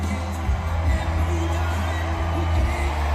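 A massive crowd cheers and roars as Donald Trump takes the stage at a packed rally in Wilkes-Barre, a dense, steady wash of voices with scattered whoops and shouts holding loud throughout.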